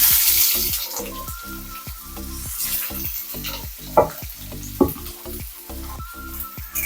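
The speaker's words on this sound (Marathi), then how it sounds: "आता आपण कांदा घालून घेऊ" Chopped onion and curry leaves sauté in a pan with steady sizzling, punctuated by clattering stirs and a couple of louder spoon knocks, close and busy throughout.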